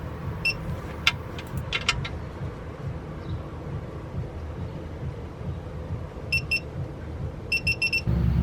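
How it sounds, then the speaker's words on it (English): Several short bursts of high electronic beeping from a torque wrench adapter signalling a Mustang oil drain plug has reached set torque, a cluster early on and another pair of rapid beep groups near the end, over a low mechanical hum. "When the adapter starts to beep, the plug has been torqued to the desired setting."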